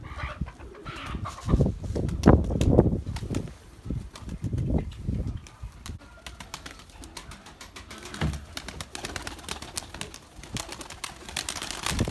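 Tumbler pigeons coo inside a coop, with soft repeated coos and the rustle and flap of the birds close by. Busy clicks and scuffles from the flock keep breaking through, and there is no talking.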